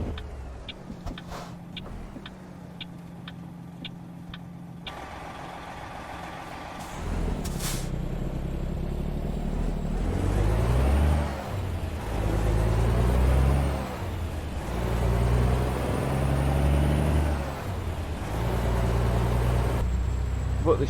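A Freightliner FLB truck drives along with a steady diesel drone and a sharp air-brake hiss early on, then a heavier, louder engine rumble that rises and falls as it pulls away. A voice speaks at times over the engine.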